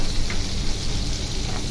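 Ginger and onion sauté in hot oil in a pan while fish sinigang is being prepared. A steady, close sizzling hiss runs without a break for the whole short moment.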